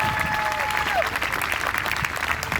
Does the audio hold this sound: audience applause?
yes